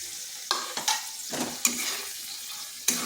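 Onion and tomato stirred into cooked masala in a kadai, with a gentle sizzle broken by a few sharp spatula scrapes and clinks at uneven intervals, close up.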